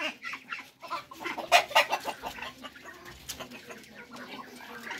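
Darag native chickens cluck at feeding time in a rural yard, with several overlapping birds clucking and chattering at close range.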